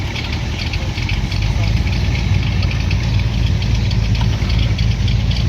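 A Ford 6.9 non-turbo diesel engine idles close by in a steady, continuous low rumble that holds even throughout, outdoors.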